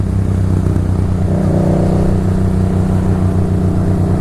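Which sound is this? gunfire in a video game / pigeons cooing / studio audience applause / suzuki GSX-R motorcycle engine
suzuki GSX-R motorcycle engine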